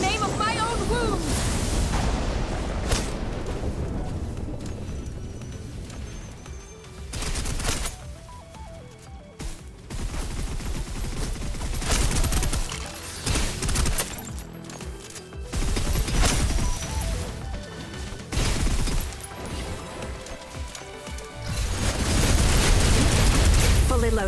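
Suppressive gunfire in a video game keeps up as a dense, continuous barrage with booming impacts, loud throughout, and voiced lines play over the battle noise.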